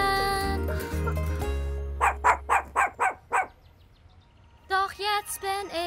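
A cartoon dog barks in a quick run of about six evenly spaced, sharp yips, preceded by light music and followed by bright chirpy tones.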